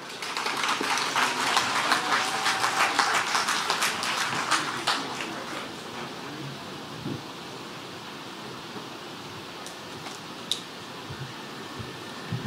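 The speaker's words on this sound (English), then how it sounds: "give him another round of applause, please" Conference audience at an annual conference claps in a broad, dense round of applause for several seconds, then thins out and fades to a quiet room with a few scattered claps.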